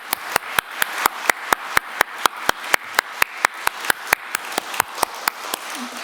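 Rhythmic clapping at a Korean church worship service during a retirement ceremony for elders, sharp evenly spaced claps about four per second that sound like a few people rather than a full congregation, with no talk.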